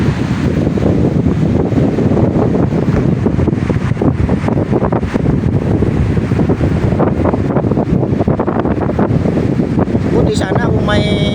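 Very strong wind roars and buffets the microphone continuously, a dense rushing noise with gusty fluctuations throughout.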